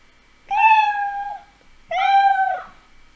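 Two clear, drawn-out cat meows, each about a second long, close and distinct with a short pause between them.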